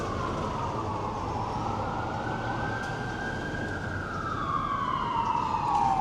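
Emergency vehicle sirens wail along a city street on K Street, a rising and falling tone that holds steady and swells louder toward the end over constant traffic rumble.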